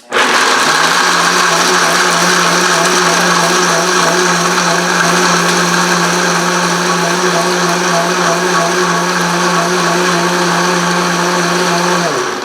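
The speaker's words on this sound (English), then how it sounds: "So now I'm going to blend the cashews" A blender grinds cashews, its motor starting with a loud, continuous, even whine that runs at close range for about twelve seconds and then stops.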